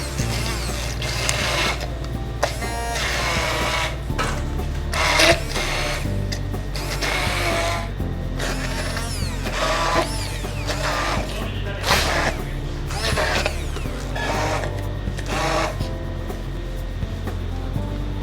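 Hand blender whirring as it chops sautéed vegetable ingredients for a vegetable bolognese in a kitchen, a steady continuous motor drone with fluctuating pitch and clattering against the container throughout.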